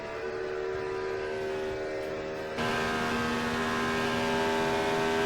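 Race car engines in an Indianapolis 500 racing video game, on a 1964 Trenton 150 race, hold a steady droning whine that shifts pitch partway through and continues without pause.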